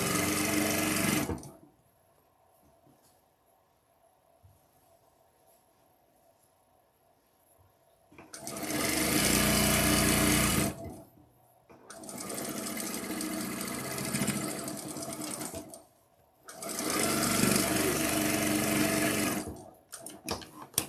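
Sewing machine stitching a quilt block in three loud sustained bursts, each several seconds long, with quiet gaps between and no talking.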